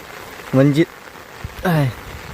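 Steady rain falls outdoors during fodder cutting, a soft continuous patter beneath two short spoken phrases.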